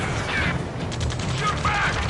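Video game battle gunfire: sharp rapid bursts of shots and mechanical clatter, mixed with shouting voices over a dense, noisy battlefield.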